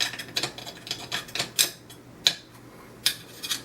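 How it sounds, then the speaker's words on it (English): Small tool tapping and clicking against a container while an oil paint wash for a model tank is mixed, with scattered sharp ticks and soft scraping, close and fairly quiet, no talk. "Mix it up a tad"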